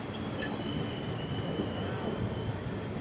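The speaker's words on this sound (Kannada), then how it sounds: "ಟ್ರೈನ್ ಡಿಸ್ಟರ್ಬೆನ್ಸ್ ಜಾಸ್ತಿ ಇದೆ" Steady, loud rumble of a passing train fills the whole stretch, with faint high wheel squeal tones riding over the continuous low roar, close by and without pause.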